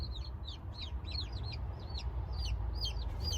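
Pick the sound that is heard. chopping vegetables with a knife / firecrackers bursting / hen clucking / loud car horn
hen clucking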